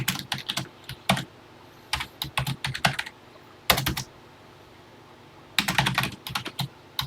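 Keys clatter on a TI-99/4A home computer keyboard in several quick bursts of close, crisp keystrokes separated by short pauses.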